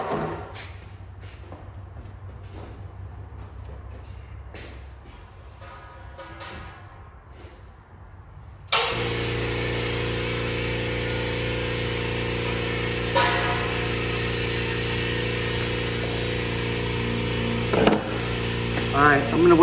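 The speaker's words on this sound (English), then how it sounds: "I'm gonna wait for the compressor to get to at least 90 PSI, and then I'm gonna set it at 90." An air compressor, used to feed an air impact wrench, kicks on abruptly partway through and runs as a loud, steady motor drone while building pressure. A person talks before and during it.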